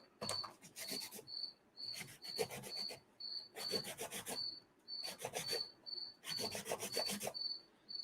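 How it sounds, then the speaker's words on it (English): Sandpaper rubbing on a custom Star Wars lightsaber part, heard as close, rhythmic rasping strokes in repeated bursts, with a steady high chirp like an insect continuing underneath. "I'm using some sandpaper here."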